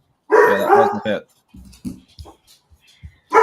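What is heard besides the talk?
dog barking, a hound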